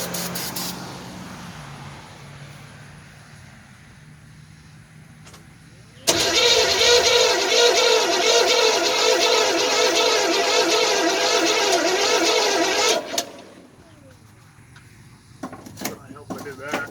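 An Oldsmobile car engine cranks and catches, then runs loud and steady with a rough, even idle for about seven seconds before shutting off, followed by quiet clicks and knocks.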